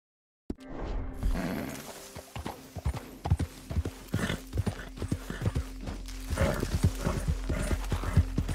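A horse in Red Dead Redemption 2 gallops in a fast, rhythmic clip-clop of hooves that builds and stays close and clear after a brief silent start, with a faint snort or whinny early on.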